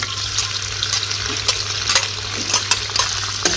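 Tofu stir-frying in oil from fried shallots and shrimp gives a steady sizzle, with a spatula scraping the pan in regular strokes roughly every half second, close and fairly loud.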